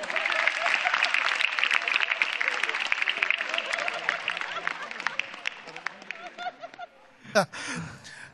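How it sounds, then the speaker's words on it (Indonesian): Audience at a stand-up comedy show applauds steadily for the comedians with some chuckling mixed in. The clapping fades after about seven seconds and is followed by a brief burst of laughter. "Tepuk tangan untuk Jerry dan juga Bonar"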